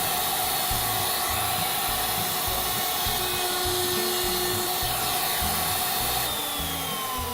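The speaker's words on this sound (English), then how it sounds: "all you want to do is router the inside of the handle so when you hold it" A loud, steady router-table whine while the inside edge of a wooden handle is routed, with faint cutting texture running under it, heard alone throughout.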